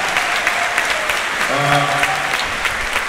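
An audience in a Moscow hall applauds at a 2020 Christmas symphony orchestra concert, with dense, steady clapping throughout and someone speaking over it.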